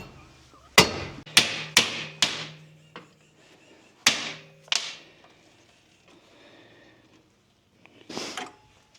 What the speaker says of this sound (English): When the wrench doesn't work, you get the big hammer.